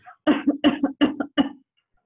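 A voice imitates a cough with four quick, rhythmic hacking bursts in close succession, near and moderately loud, then silence.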